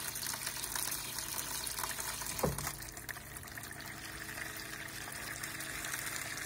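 Water runs steadily from a tap, filling a basin to bathe a pet fox, a continuous soft gushing and splashing with a brief thump partway through.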